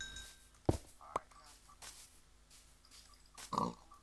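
Pig grunts from a video game, a few short bursts spaced across the clip with the loudest near the end, over a quiet synthetic background.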